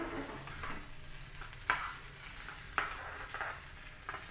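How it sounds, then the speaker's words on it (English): Raisins stirred and frying in a pan over lowered flame for Bengali cholar dal, a steady soft sizzle with two sharp scrape-like clicks of a spoon, close and moderately quiet, no talking. "now I will give the raisins"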